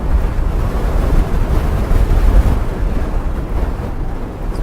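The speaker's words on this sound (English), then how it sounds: "Wow, that's some wind." Strong wind gusts buffet a camera microphone outdoors during a cycling outing, a loud, continuous low rumble with no voices.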